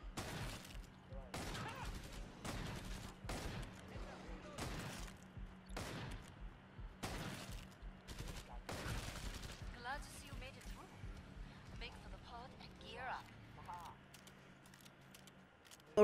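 Bursts of video game gunfire, several sharp shots with short gaps across the first half, loud and close, with a player talking over the action and softer game sounds after.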